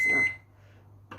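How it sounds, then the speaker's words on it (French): A microwave oven, used to melt butter in a bowl, gives a short single beep, then falls quiet before a second beep starts; no one speaks. "J'ai mis dans le bol pour faire fondre au micro-ondes."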